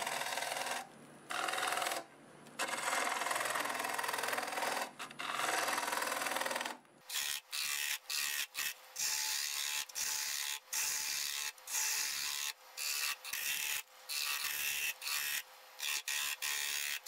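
Lathe tool cutting a plum crotch bowl with a live edge: a steady bright scraping rasp, then a string of short repeated cuts broken by brief gaps, close and with no talk.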